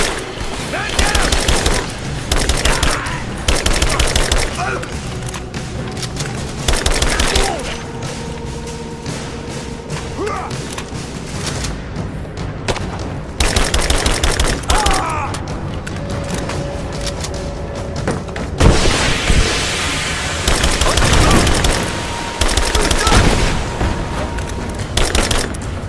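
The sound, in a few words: gunfire in the video game Rise of the Tomb Raider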